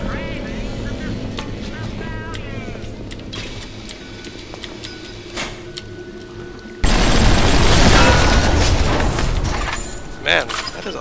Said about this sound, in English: Man, that is a loud explosion.